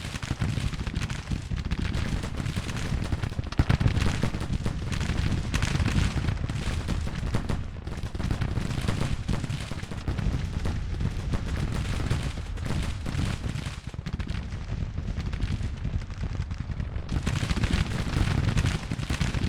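Continuous battle din from a Civil War strategy game at Mayo's Bridge, 1862: dense rolling musket fire and booming artillery with no break, a steady, loud wall of gunfire and distant blasts.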